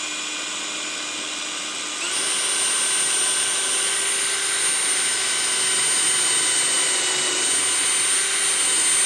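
A power drill whines steadily while boring a pilot hole in old 2x4 lumber, its pitch stepping up after a couple of seconds and then holding a constant high-speed drone.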